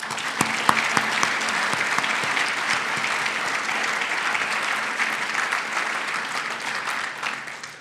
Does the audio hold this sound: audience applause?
yes